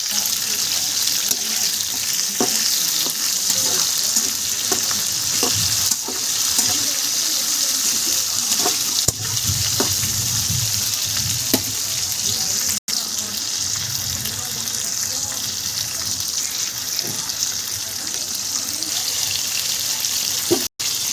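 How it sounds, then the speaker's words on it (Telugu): Onion pieces frying in a pan for a tomato-onion chutney give a continuous, even sizzling hiss with occasional small pops and clicks, close by and steady throughout. "ఒక ఉల్లిపాయని రెండు ముక్కల కింద నాలుగు ముక్కల కింద చేసుకొని ఇలా వేసుకోవాలండి"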